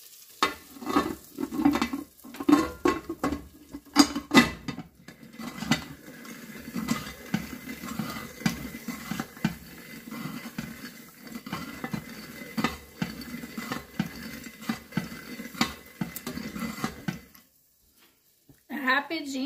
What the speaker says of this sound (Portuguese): Ó, tá fritando ali a pipoca